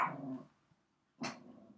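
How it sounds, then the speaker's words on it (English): Dogs give two short barks or growls, one at the start and another after a pause of about a second, faint and somewhat distant in an indoor setting. "You're going to hear the dogs barking."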